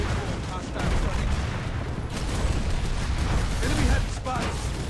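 Continuous gunfire and explosions from a PlanetSide 2 battle, a dense, steady wall of shots and blasts throughout, loud and close, with chatter mixed in.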